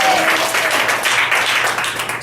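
Church congregation breaking into loud applause during a Sunday morning worship service, dense clapping that stays strong across the whole moment and eases slightly at the very end.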